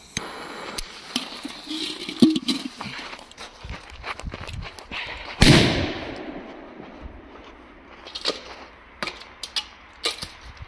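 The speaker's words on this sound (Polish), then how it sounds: "Polen Biller, wersja żółta, petardka pod gardkiem." A yellow Polenböller 2-gram firecracker goes off outdoors with one loud, sharp bang midway, surrounded by scattered small clicks and rustling footsteps.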